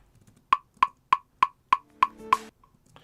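Double-time metronome click from Guide Track Expanded: seven sharp, evenly spaced clicks, close and clear, with a brief tonal tail after the last one.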